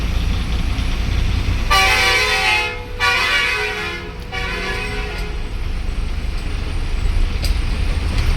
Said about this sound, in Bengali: বিকট হর্ন দিতে দিতে।